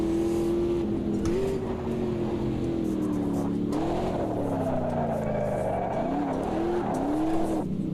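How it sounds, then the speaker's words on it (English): Race car tyres slide and squeal in the Automobilista 2 sim racing game, a sustained screech riding over a steady, loud engine drone, with pitch dips as the car drifts, and light talk underneath. "It's so much easier to do controlled drifting on these tyres."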